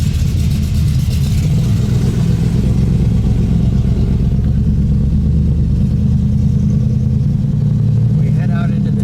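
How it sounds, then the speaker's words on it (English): A 1969 Dodge Dart GTS with a 340 V8 rumbles steadily close by as it pulls away, a deep continuous engine drone throughout. "So we're taking the 69 Dart GTS out. That sounds pretty healthy."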